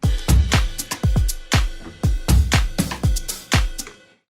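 Real acoustic drum kit samples from a Spitfire Audio instrument, layered with an electronic kit in an organic house groove: punchy kick and snare hits with crisp cymbal ticks in a steady mid-tempo pattern, close and dry, ending in a short decay.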